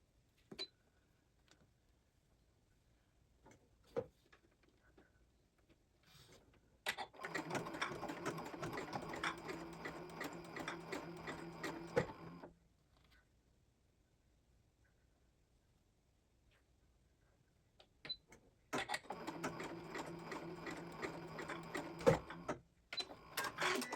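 Sewing machine stitching a zigzag on a sling pouch, two long runs of rapid rhythmic mechanical clatter, each about five seconds, separated by quiet handling clicks and taps, close and fairly soft.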